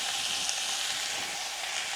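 Turmeric and ground spices hit a hot pan on a low flame, giving a steady, close sizzling hiss that holds evenly throughout with no talking.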